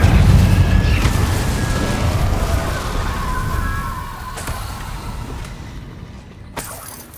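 Incendio fire spell in Hogwarts Legacy, a loud roaring burst of flame that starts strong and slowly fades over several seconds, with a few sharper crackles and impacts near the end.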